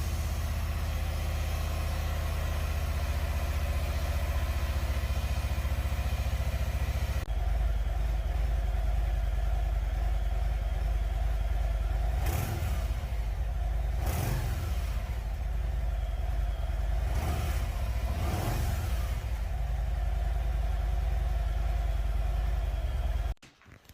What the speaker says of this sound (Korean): 여러분이 소리의 크기를 짐작할 수 있도록 배기음 소리를 측정해 봤습니다